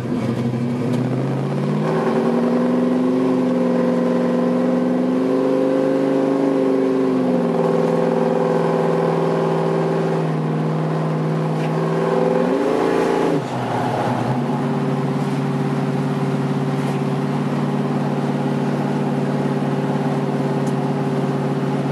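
A 1968 Ford Mustang's engine revs up loud and close as the car drives off, rising and falling through gear changes before settling into a steady cruising drone.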